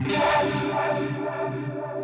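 A mini vibe effect stacked with a tremo flange gives a swirling, old-school rotary-speaker tone on a sustained, harmonically rich instrument, steady and up close with no talking.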